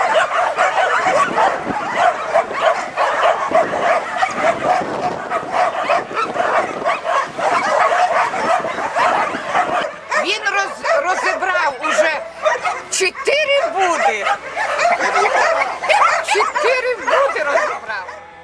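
Many dogs kept on chains at an animal shelter bark, yip and whimper in a continuous chorus, some close and some farther off, with a person talking over the noise.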